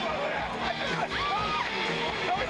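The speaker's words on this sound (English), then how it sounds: "the biggest cheer of the night was not for a football player or a play, but a congressman" A college football stadium crowd at an LSU game roars in cheering for a congressman, a broad sustained wash of yelling and whoops from a distance, with scattered shouts rising through.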